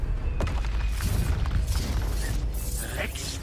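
A loud, dense Expulso explosion spell in a Harry Potter–style video game. Booming blasts and bursts layer over continuous game noise, with a voice shouting spell names.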